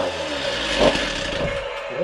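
A freshly rebuilt Stihl TS350 cut-off saw engine runs steadily at a rough, uneven idle, droning continuously throughout without speech.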